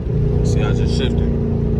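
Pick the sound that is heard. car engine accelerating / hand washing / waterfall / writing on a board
car engine accelerating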